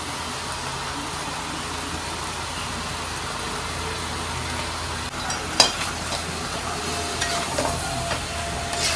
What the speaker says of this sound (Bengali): এখন আমি এই পেঁয়াজ, এই সরি আদা রসুনের পেস্টটা দিয়ে দেবো।